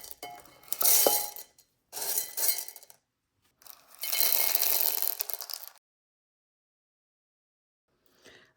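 LECA clay pebbles poured into a plant pot lined with a mesh pad, giving three rattling, clinking bursts of tumbling pellets separated by short pauses, then silence apart from a faint clatter near the end.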